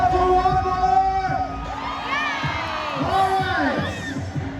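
A large crowd at a motorcycle stunt show at a festival roars with cheers, whoops and shouts, including high children's voices, sustained and loud throughout.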